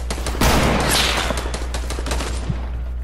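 Gunfire from the Fortnite battle royale video game, a dense, continuous stretch of rapid, loud shots crackling without pause for about three seconds, with no voices.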